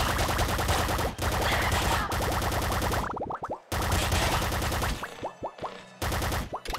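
Rapid, dense plasma cannon fire from the video game Nuclear Throne Ultra Mod, loud and continuous bursts broken by brief pauses with short bouncing, boinging impacts trailing off.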